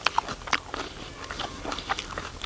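Raw onion dressed with squeezed lemon being bitten and chewed at a village-style chicken pulao meal, a few close crunchy bites and chews spaced irregularly, with no talking.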